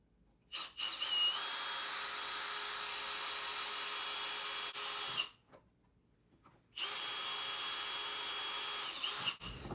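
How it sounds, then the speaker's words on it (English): An electric drill whines steadily while boring into antler, stops briefly, then starts again for another run, close by. "So what I'll do now is I'll drill a hole."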